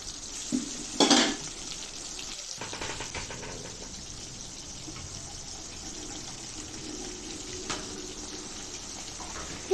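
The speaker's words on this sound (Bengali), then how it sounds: "কড়াইতে তেল দিয়ে দিয়েছি তেলটা গরম হয়ে যাওয়ার পর মাছগুলো তুলে দিলাম" Hot oil sizzling in a kadai as pieces of rohu fish are laid in to fry, a steady close crackle with a couple of sharper clinks and stirs early on, no voices.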